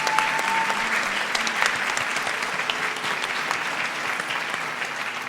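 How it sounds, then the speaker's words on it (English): A steady wash of clapping from an audience honours a dance guru at a Bharatanatyam arangetram, dense and sustained across the whole stretch with no break. "A big round of applause for Guru Srimati Madhavi."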